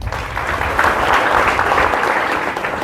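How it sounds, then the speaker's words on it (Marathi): A room full of people claps steadily for a student at a Marathi career guidance event, a dense sustained burst of applause at close range with no talking over it. "हिच्यासाठी टाळ्या वाजवा."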